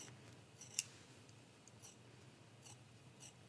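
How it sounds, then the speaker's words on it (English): Scissors snip through quilt fabric along a quilt-as-you-go block, their blades riding along the backing: faint, quiet cuts with one sharper click early on, close by and otherwise near-silent. "with these scissors, that just rides right along the back"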